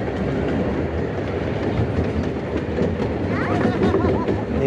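A miniature steam train ride on the Redwood Valley Railway in Tilden Park, Berkeley: a steady rumble and clickety-clack of small wagons on rails, loud and continuous, with a faint squeal of wheels near the end.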